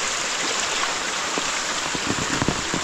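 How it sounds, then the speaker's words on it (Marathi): Rain pours steadily outdoors while runoff rushes along a lane like a small stream, a dense continuous hiss with scattered close drops and splashes and no voices. "आता हा एवढासा 5 मिनिटाचा पाऊस, अजून जर थोडा पडला असता ना तर भरपूर पाणी असतं इकडे."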